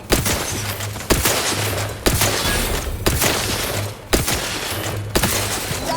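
Gunfire from The Outer Worlds 2 video game: six loud, evenly spaced bursts roughly one second apart, each a sharp crack followed by rumbling tail, with a low mechanical hum underneath and no talking.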